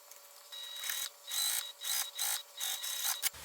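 Sewing machine stitching a lining piece to a pocket piece for a makeup bag, running in several short bursts with brief pauses between, close and clear with no talking.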